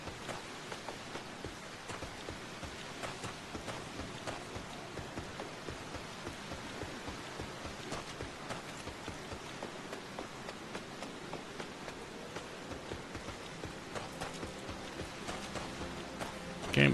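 Steady rain falls in Gridania in Final Fantasy XIV, a dense, even patter of drops that holds constant throughout, with a faint extra sound near the end.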